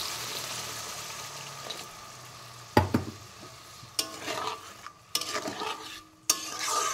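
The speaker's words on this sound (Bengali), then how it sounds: "এবার দিয়ে দেবো অল্প একটু জল।" Water poured into frying fish curry masala, a soft sizzle bursting into loud hissing and bubbling, followed by several sharp stirring scrapes against the pan.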